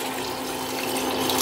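Water poured from a cup into a pan of fried masoor lentils for oats khichdi, a steady continuous rush of splashing liquid, close and fairly loud, with no talking.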